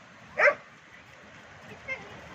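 A dog barks on a beach: one sharp, moderately close bark, then a softer second bark a moment later, over a steady wash of background noise.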